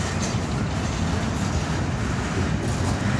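A long CSX freight train rolls past up close in Jacksonville, Florida, a steady loud rumble of rail cars with continuous low thumping and clatter and no pause.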